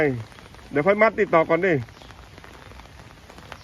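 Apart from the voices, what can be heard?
rain falling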